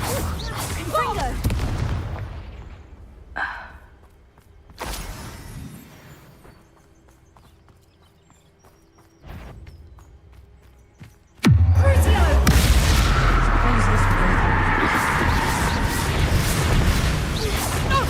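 A fire spell blast from the wizarding game Hogwarts Legacy erupts suddenly into a loud, sustained roaring burst of crackle and rumble after quieter moments with scattered hoofbeat-like thuds and bangs.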